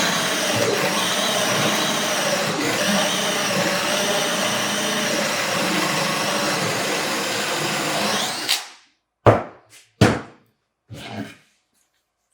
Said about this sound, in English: finish drilling the rest of the hole